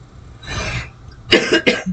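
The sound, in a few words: coughing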